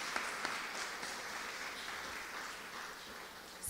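A conference audience gives a soft, distant round of applause, steady and even with a couple of sharper claps early on, fading slightly toward the end.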